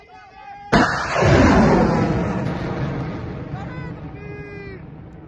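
Artillery fire: a single sharp, loud blast followed by a long rumbling roar that slowly fades over several seconds, with faint voices or tones near the end.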